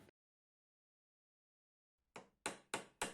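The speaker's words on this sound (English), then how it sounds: "I'm hammering the pins to create the rivets to lock the bolster" Three sharp metallic hammer strikes in a quick, even rhythm, close and loud, after a stretch of near silence: pins hammered into rivets to lock a knife bolster.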